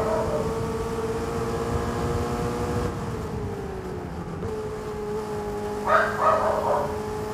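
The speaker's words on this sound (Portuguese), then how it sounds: "Gente, vocês desculpem o cachorro." A dog barks a few times near the end, somewhere close by inside a home, over the steady drone of a Ferrari Roma engine from an F1 2022 racing game.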